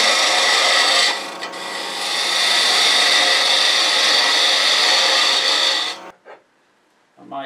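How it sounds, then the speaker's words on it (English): A wood lathe turns a wooden cube while a cutting tool takes down a taper, a loud, steady, hissing scrape held for about six seconds, briefly easing once, then stopping into near silence. "I'm going to bring this taper down just a little bit."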